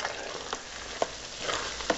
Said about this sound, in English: you can hear it sizzling and bubbling in there